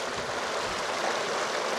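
The south fork of the Kings River rushes along steadily, a dense, continuous broadband wash of flowing water close by with no voices.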